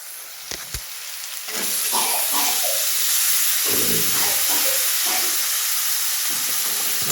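Chopped tomatoes with onions frying in a hot pan for egg bhurji: a few light clicks at first, then a loud, continuous close-up sizzle and hiss with occasional stirring scrapes, no talking.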